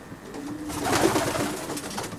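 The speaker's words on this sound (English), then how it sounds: "This is Doug's very smart little young bird loft." Racing pigeons coo softly inside a young bird loft, a low rolling coo swelling mid-clip among faint rustling, close and fairly quiet with no talk.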